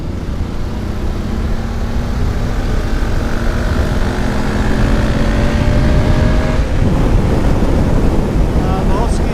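A BMW F850GS Adventure motorcycle accelerates hard in fifth gear off road, its engine note climbing steadily under heavy, constant wind roar before easing off near the end.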